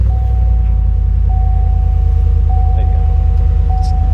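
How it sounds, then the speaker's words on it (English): A GMC 1500 pickup truck fitted with an exhaust idles close by in a steady, unbroken low rumble, with a faint constant whine layered over it and no talking. "It does have an exhaust on it"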